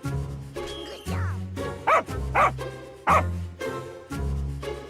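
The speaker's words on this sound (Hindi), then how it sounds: "अरे ये कुत्ता कहाँ से आ गया?" Cartoon dog barking in a Hindi comedy animation, a few short yapping barks rising between stretches of musical or voiced tones, fairly close and loud.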